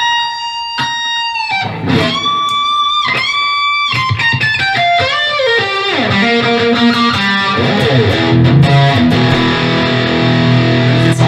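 A Maybach electric guitar played through heavy distortion rings out loud and alone, with sustained chords and bends giving way to busier riffing that thickens toward the end.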